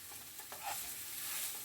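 Seitan steaks fry in a pan with a steady, dense sizzle and faint crackle, heard alone and fairly quiet throughout.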